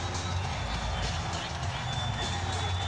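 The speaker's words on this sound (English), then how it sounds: "The crowd here cheering on the Orlando Magic with the best home record in the NBA in the regular season." Basketball arena crowd cheering for the Orlando Magic during a 1995 NBA playoff game against the Bulls, a dense steady roar of many voices with no break.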